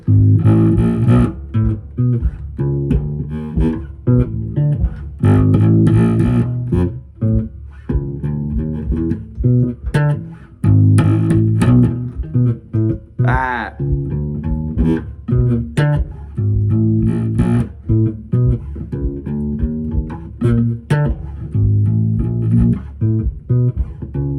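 A stringed instrument plays a tune as a steady run of plucked melodic notes with a low bass line, loud and close, with no talking.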